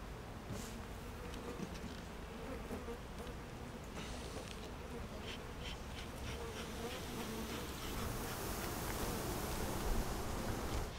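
Honeybees buzzing steadily at an open hive during an inspection, with frames of bees and empty frames inside; a dense, continuous close drone that swells slightly toward the end, with no talking.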